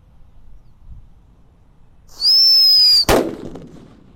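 A rising whistle shrieks for about a second, then a single sharp bang from a Happy Power 3 firework cracks nearby and fades with a short rumble.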